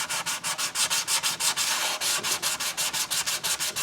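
Filler on the roof of a wooden German mantel clock is sanded by hand in quick, rhythmic back-and-forth strokes, a close, regular scratchy rubbing with no talking.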